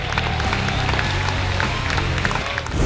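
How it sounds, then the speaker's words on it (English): A crowd at a Brazilian jiu-jitsu tournament in the Marianas applauds a brown belt absolute medalist, a steady wash of clapping with crowd noise and a low hum running throughout. "Round of applause for Frank the Great Camacho"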